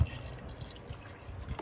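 Water is poured briefly into a pressure cooker pot holding oxtail and wine, a short soft splash and trickle close by, with no talk.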